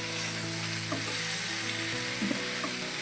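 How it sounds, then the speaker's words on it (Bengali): Chopped tomato and chilli fry in a pan in a village kitchen while a dried fish curry is being cooked, giving a constant close sizzle with soft stirring touches over a steady background hum. "এবার ভালো করে নাড়তে থাকবো"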